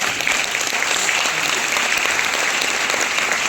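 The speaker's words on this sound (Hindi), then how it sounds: "एक बार जोरदार ताली बजा दो" A seated audience at a business training session breaks into loud, sustained applause, dense clapping that stays steady and close for the whole stretch.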